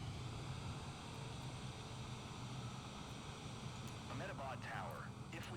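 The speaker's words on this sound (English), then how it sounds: "we're all listening to the wind" Wind rushes past a heavy airliner with one engine down in a flight simulator game recreating the Air India 171 crash, a steady, low, continuous roar with a voice appearing faintly near the end.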